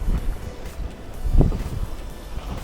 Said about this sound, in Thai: ลมแรงเหมือนกันนะเนี่ย